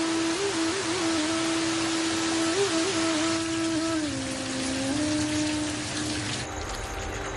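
Heavy monsoon rain pours continuously in Mumbai, a dense even hiss of drops that holds steady throughout, with a faint wavering tone running beneath it and no voices.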